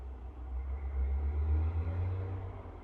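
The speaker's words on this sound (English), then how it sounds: "And a loud truck goes by." A loud truck drives past outdoors as a steady deep rumble that builds toward the middle and stays heavy throughout, with no talking.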